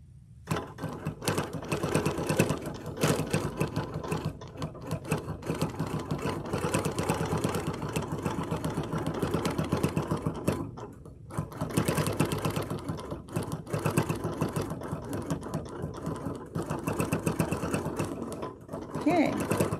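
A sewing machine pieces and quilts a charm pack block in a continuous, moderately loud run of rapid stitching with only a brief pause near the middle, a steady mechanical hum throughout.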